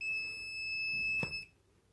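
A Fluke non-contact voltage detector held to a live conductor gives a steady high electronic tone, close and fairly quiet, which cuts off after about a second and a half.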